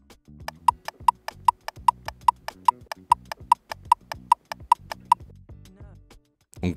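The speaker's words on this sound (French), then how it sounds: "voici le son d'un clignotant en panne." A faulty car turn signal clicks too fast, about thirteen sharp, evenly spaced ticks in quick succession over a low hum, ending abruptly.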